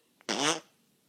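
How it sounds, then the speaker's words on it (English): A single short fart, loud and close, lasting about a third of a second with a buzzy tone, then quiet. "Fart."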